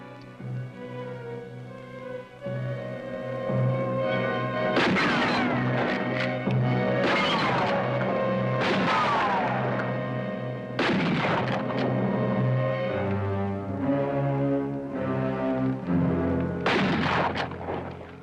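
Gunshots ring out from target shooting, several sharp cracks spaced irregularly with long echoing tails, heard alongside background music and sound effects.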